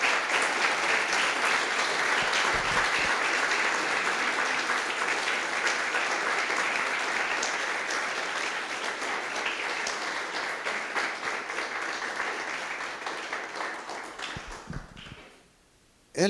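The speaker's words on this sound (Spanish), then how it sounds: "Dale un aplauso al Señor, hermano." A church congregation applauding together, a dense, loud, sustained wash of clapping that holds for many seconds, then tapers and stops.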